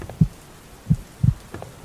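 Heartbeat sound effect: four low, soft thumps spaced roughly evenly apart, each a dull pulse, heard alone with no voices over them.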